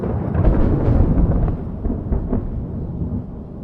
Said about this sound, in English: a crackle of lightning splits the sky and we begin to hear what sounds like a reverberating quake across